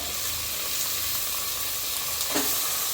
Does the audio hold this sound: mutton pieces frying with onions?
yes